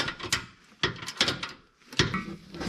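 A brand-new bolt on a car sway bar link being tightened: quiet, close mechanical clicks and ratcheting in several short bursts with brief gaps between them.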